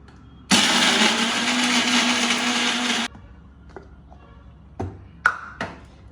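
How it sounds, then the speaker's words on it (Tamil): A mixer grinder roars loudly for a few seconds as it grinds coconut and tomatoes, then stops, followed by a few scattered clinks and taps. "இப்போ இது எல்லாத்தையும் நம்ம நைஸாக அரைச்சிட்டு வந்துடணும்."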